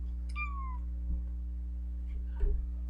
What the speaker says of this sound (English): I hope you all just heard her make that meow because it was the cutest meow ever